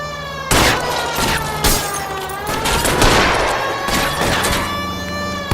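Gunfire aimed at a fleeing car's tyres in the video game LA Noire: several sharp, loud shots burst out at uneven intervals over a steady, wailing police-siren tone.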